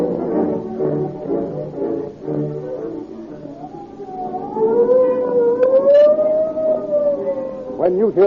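Police car siren wailing with a rising and falling tone that climbs loud and close, following a stretch of talk in an old radio crime drama.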